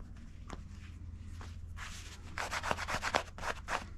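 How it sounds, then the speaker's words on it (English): A wooden side table edge being polished by hand, with cloth rubbing and scuffing strokes that grow busier and louder near the end, close up and with no talk. "I'm gonna just polish the edge"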